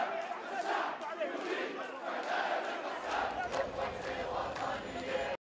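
An enraged crowd of protesters shouting in unrest after the Al Ahli Hospital explosion in Gaza: a dense, continuous roar of many voices yelling together, steady and loud throughout, heard from within or close to the crowd.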